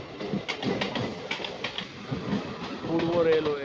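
An Eastern Railway passenger train running past Bolpur Shantiniketan station toward Rampurhat, heard from on board as a steady rumble with rhythmic clickety-clack of wheels over rail joints, under a voice.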